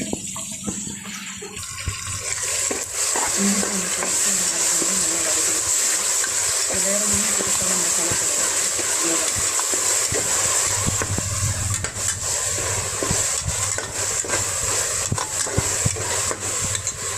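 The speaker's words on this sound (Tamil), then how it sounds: "இஞ்சி அந்த பேஸ்ட் நல்லா வதங்கினது" Tomato, onion and ginger-garlic paste sauté in a pan for a paneer pulao, giving a steady loud broadband sizzle that continues throughout with faint scraping.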